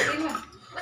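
A single short, close cough from someone who has been eating chakli, the crunchy spiced snack made during a Navaratri festival day.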